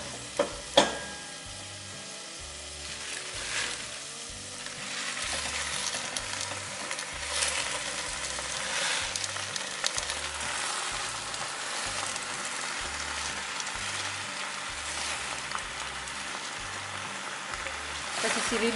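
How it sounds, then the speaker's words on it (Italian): A steady oily sizzle of spinach frying with onion in a pot, with occasional stirring clatter, continuous and close throughout. "Appena comincia a soffriggere, ci mettiamo gli spinaci."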